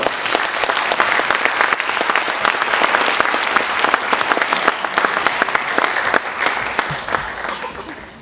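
Sustained crowd applause fills a church worship service at Sun Moon University as a chairman is welcomed to the podium. It is loud and steady, then tapers off near the end.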